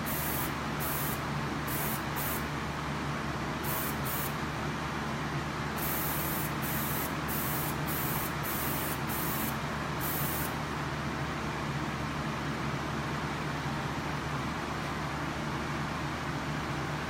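A Prevail handheld spray unit, sold at Napa Auto Parts, hisses steadily for a long, unbroken stretch, close and even, with no talking over it.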